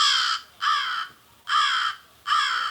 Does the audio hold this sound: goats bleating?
no